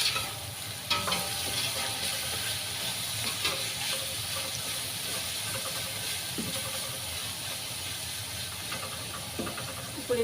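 Masala with coriander leaves fries in a pan with a soft, steady sizzle and hiss, while faint scrapes and taps of stirring come through now and then.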